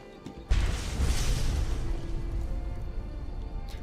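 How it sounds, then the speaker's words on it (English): A video game explosion hits as a sudden loud blast, then a broad roaring rumble that slowly fades over the next few seconds, with no voices. "Explosion."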